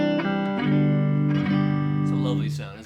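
Clean electric guitar played through a Fender Princeton Reverb amp and captured on a Sontronics Delta ribbon microphone, a few ringing chords and single notes sustaining close and full over a short phrase.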